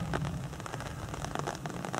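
Steady rain patters on surfaces around a forest hiking trail in the Creuse, a dense close hiss of drops with no voices.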